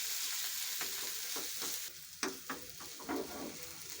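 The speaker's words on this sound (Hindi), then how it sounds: "अब ये भी इसके अंदर हम सभी ऐड कर देंगे और अच्छे तरीके से इनको मिक्स कर लेंगे" Grated potatoes being stirred into a spiced filling in a pan, with a steady sizzling frying hiss and several sharp scraping knocks of the spoon in the second half, no voices.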